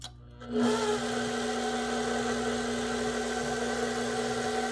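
An electric mixer on its lowest speed churns pomegranate pound cake batter, switching on after a brief quiet moment and then holding a steady, close motor whir with a constant hum to the end.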